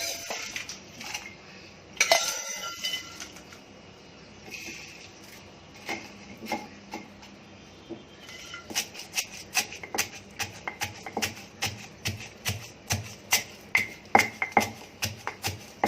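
Roasted spices pounded and ground by hand in a mortar, starting with scattered scrapes and knocks, then settling into a steady rhythm of sharp thuds, close and fairly loud.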